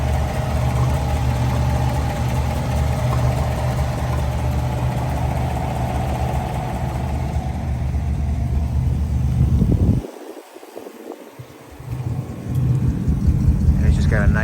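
Steady low exhaust rumble from an idling 1954 Mercury Monterey two-door hardtop, with a voice talking over it and a brief dropout near the end before the idle returns.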